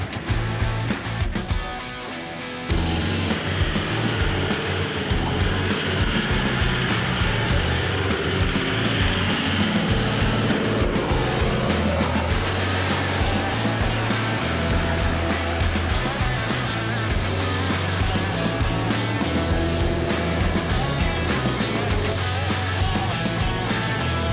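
A 4WD climbs steep Frenchmans Track in second gear low range, its engine droning loud and steady with rumbling low end and rattling body and tyre noise, after a brief quiet start.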